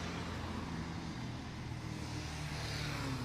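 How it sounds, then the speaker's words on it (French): Cars pass on a street, giving a continuous, moderate roadway rumble with a gradual swell of passing traffic and no one talking. "ça commence vraiment à me saouler les voitures qui arrêtent pas de passer"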